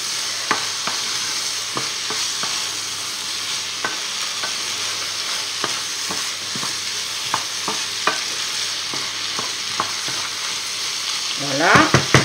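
Three bell peppers frying with squid in a pan for a Basque-style dish, giving a steady close sizzle with scattered utensil clicks and scrapes, then a louder burst of stirring and crackle at the end.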